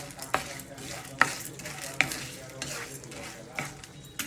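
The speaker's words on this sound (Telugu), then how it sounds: "పచ్చిశనగపప్పు వేయించుకోవాలి" Chana dal fries in a little oil in a pan, giving a soft steady sizzle broken by a few crisp scraping clicks as the spatula stirs it.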